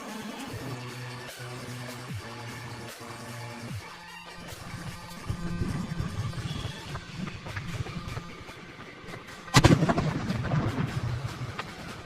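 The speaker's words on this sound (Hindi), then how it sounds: "धमाका देखा, इतना खतरनाक" A loud close firecracker blast bursts out midway through a rumbling, crackling din, set off on a block of ice, followed by lingering booms and clatter; no voices.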